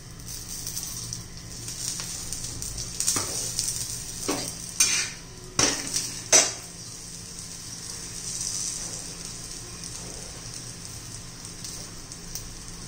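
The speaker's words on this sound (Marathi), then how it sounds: "आता पुन्हा आपण याच्यावर झाकण ठेवूया आणि खमंग असं भाजून घेऊया" Thalipeeth flatbread of sprouted green mung and sorghum flour roasts in ghee in a pan, giving a faint steady sizzle with a few sharp scraping clicks partway through.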